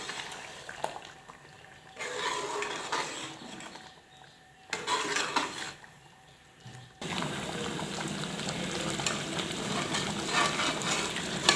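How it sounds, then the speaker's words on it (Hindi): Chicken korma frying with tomato paste in a pot, a continuous sizzle that drops out twice before returning louder and denser, with faint scraping and stirring, no talking. "टमाटो पेस्ट ऐड करने के बाद अब हम मज़ीद इसे 10 मिनट अच्छे से भून लेंगे"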